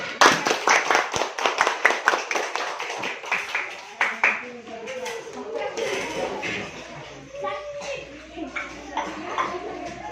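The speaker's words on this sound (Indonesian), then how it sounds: "Beri tepuk tangan untuk kelompok satu." A classroom of children claps for the first group, a burst of brisk, close applause that fades after a few seconds into children's chatter and talking.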